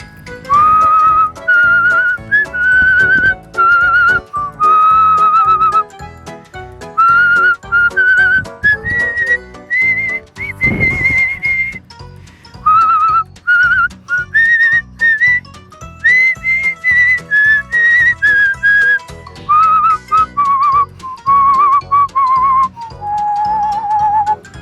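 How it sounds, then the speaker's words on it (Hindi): A Pakistani man whistles his country's national anthem with a clear, piercing, melodic tone, phrase after phrase with short breaks for breath, loud and close, with no talking. "कौमी तराना जो पाकिस्तान का है, अपनी सिटी में से निकालते हैं"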